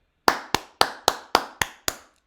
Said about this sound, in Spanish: Aplausos para el ejército mexicano y para el gobierno de México